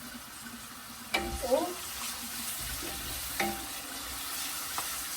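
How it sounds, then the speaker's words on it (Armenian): Onions fry in a pan for pilaf with a soft, steady sizzle, broken by a few stirring knocks and scrapes, one stronger stir early on and another a couple of seconds later. "թողենք սոխը տապակվի"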